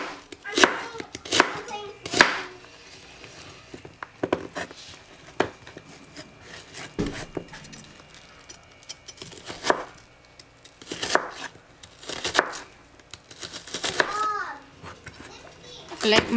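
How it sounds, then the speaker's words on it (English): A knife chops onion into small cubes on a board, with bursts of sharp, rapid taps separated by pauses, while a voice chatters in the background. "Chop the onion up to cubes"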